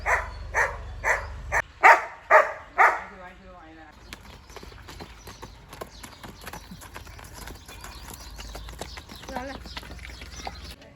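Horses jumping, their hooves striking the ground in about five loud, separate clip-clops at the start, followed by quieter scattered thuds and rustling.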